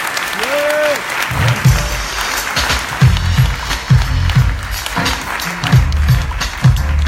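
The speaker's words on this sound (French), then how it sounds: "je vous demande de faire un tonnerre d'applaudissements" An audience applauds for a speaker arriving on stage, clapping loudly with rhythmic thumps and stomps mixed in, and voices shouting within the crowd noise.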